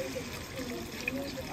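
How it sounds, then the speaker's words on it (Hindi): Water poured into a cooking pot for broth: a steady, close, continuous pouring hiss and trickle, with voices faintly present. "बस शोरबे के लिए पानी थोड़ा सा ऐड कर दिया है"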